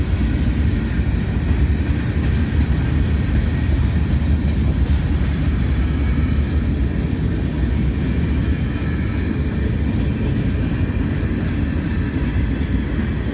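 A long freight train of empty covered hopper grain cars rolls past at close range in Abbeville, South Carolina, giving a loud, continuous rumble with wheel and rail noise throughout.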